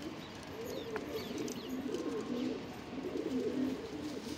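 Punjabi pigeons coo in a low, rolling murmur, several birds close by with overlapping throaty calls, faint and continuous against a background hiss.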